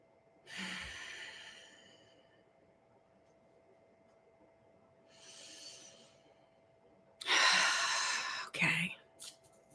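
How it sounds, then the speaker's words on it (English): A slow, deep breath drawn in and let out during a calm guided meditation, soft airy inhales and exhales separated by quiet gaps, close and gentle, ending with a louder breathy sigh. "Take a nice deep breath."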